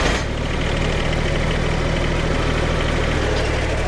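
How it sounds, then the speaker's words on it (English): A tractor engine idles steadily while a Black Oak log is handled for sawmilling outdoors. The low, continuous rumble stays loud and even from start to finish, with no talking. "Back up that tractor."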